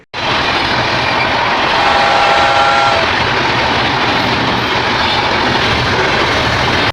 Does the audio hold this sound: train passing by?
yes